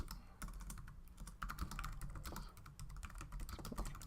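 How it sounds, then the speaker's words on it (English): Steady typing on a computer keyboard, a quick run of key clicks going on for the whole stretch, close and fairly quiet with no talk over it. "You can just type a question or a prompt in."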